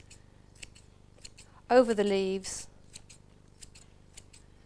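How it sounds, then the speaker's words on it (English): Scissors snip anchovies over salad leaves in a kitchen, giving a few quick, close, dry clicks and one short crisp cut beside a brief spoken phrase. "what we're going to do with those is just snip them with the scissors"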